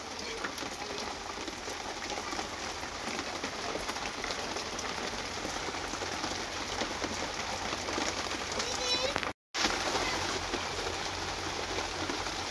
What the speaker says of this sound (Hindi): झिप झिप झिप झिप वर्षा हो